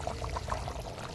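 Soaked, drained rice pours into a pot for Telangana-style bagara rice, a brief rapid patter of grains close up, without talk.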